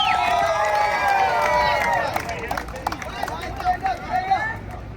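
A Times Square street performance crowd in New York cheers and shouts loudly, a dense whoop of many voices that fades into scattered calls and hubbub.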